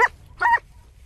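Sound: hunting dog barking while tracking wild boar

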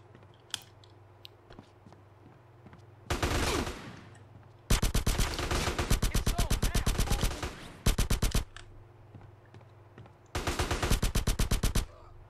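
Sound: gunfire in video game GTA San Andreas

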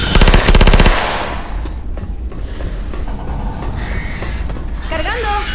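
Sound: submachine gun fire in Left 4 Dead 2 video game

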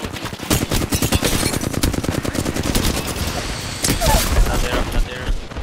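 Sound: gunfire in Apex Legends video game

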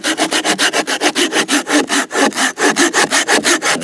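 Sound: saw cutting through old wood in a forest

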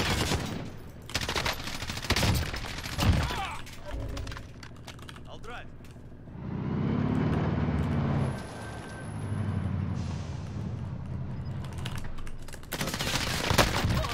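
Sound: gunfire at a car in the video game Call of Duty: Warzone

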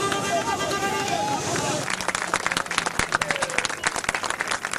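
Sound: applause and cheering for protesters being removed

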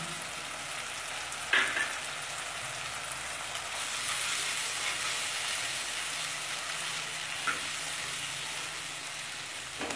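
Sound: frying chopped chilli and tomatoes in oil for chickpea masala

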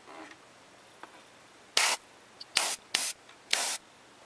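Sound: airbrush spray painting a Gashapon figure part

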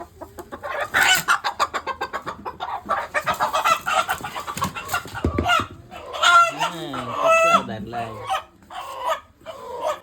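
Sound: rooster crowing and clucking

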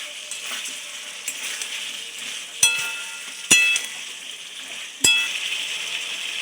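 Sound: chicken pakora sautéing in a pan

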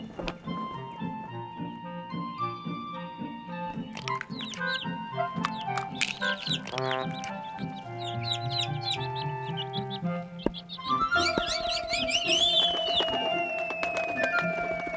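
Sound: chickens clucking in an animated Bible story

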